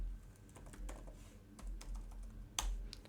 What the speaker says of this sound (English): So I'll just type my password here,